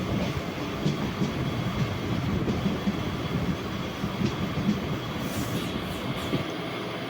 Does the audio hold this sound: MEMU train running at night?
yes